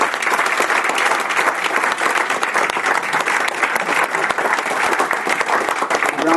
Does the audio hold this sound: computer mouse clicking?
no